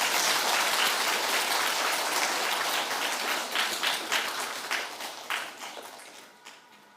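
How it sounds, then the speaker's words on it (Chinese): Warm audience applause welcoming a professor to a literature lecture hall, a thick steady patter of many hands that thins into scattered claps and fades out near the end. "让我们以热烈掌声欢迎黄教授为我们带来汤显祖临川四梦的文学经典意义专题讲座"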